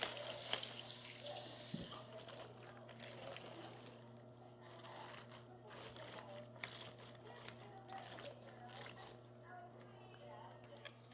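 Tap water runs steadily into a sink in a home kitchen while kimchi is being prepared, a continuous close splashing stream with occasional clatter of handling.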